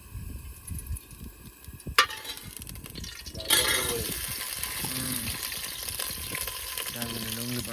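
Oil poured into a hot pan erupts into loud, steady sizzling and frying after a few seconds of background noise, continuing close and bright with faint stirring clatter.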